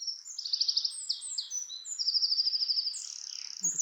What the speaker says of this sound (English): All the birds chirping.